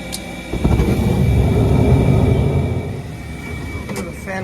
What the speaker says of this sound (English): The fan motor's hopping around.